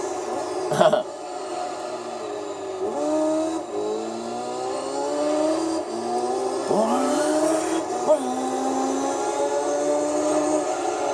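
A racing car's engine in the Gran Turismo 3 video game revs loudly and continuously, with its pitch repeatedly climbing through the gears and dropping at each shift.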